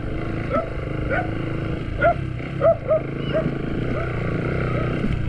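A dog gives a few short barks at a distance, spaced irregularly over a constant motor hum.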